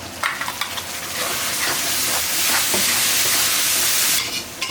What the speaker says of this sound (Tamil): இதில் ஒரு 3 தக்காளி எடுத்து பேஸ்ட் மாதிரி அரைச்சி வச்சுருக்கேன், இதையும் ஊற்றிக்கலாம்.